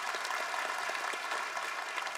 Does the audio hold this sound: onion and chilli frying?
no